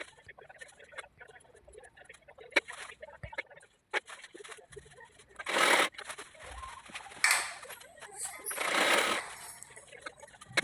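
Sewing machine stitching a lehenga, with short bursts of rapid mechanical whirring separated by quiet pauses, light clicks and handling noises close by.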